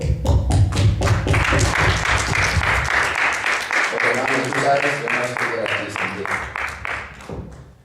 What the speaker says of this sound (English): I'm going to applaud my mom right now.